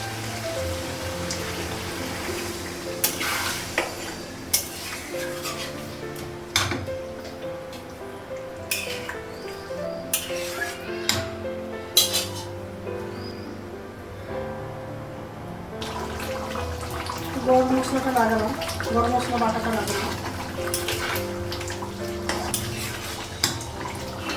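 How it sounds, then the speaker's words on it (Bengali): A karai (wok) and other cooking pots get washed in a home kitchen: clanking metal, scraping and sloshing water in irregular bursts, fairly close, with sharp knocks of pans against each other. "কড়াই ছিল সেগুলো ধুলাম আরও কিছু বাসন ছিল সেগুলোও ধুলাম"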